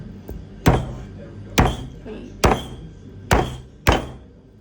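Five heavy, evenly spaced pounding blows strike a goat's head to crack it open, each a sharp close thud with a short decay, over a low background hum.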